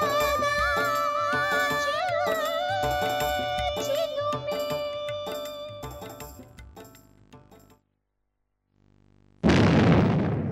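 Bomb explosion sound effect in a Kannada radio awareness program: music gives way to near-silence, then a single loud, close blast erupts and rumbles out at the end.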